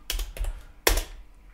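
A few quick bursts of keystrokes on a computer keyboard while working in Vim in the Vivaldi browser: two close clusters of taps, then one sharper press, all crisp and near.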